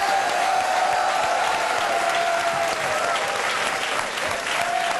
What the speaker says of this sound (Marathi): पुन्हा एकदा जोरात टाळ्या.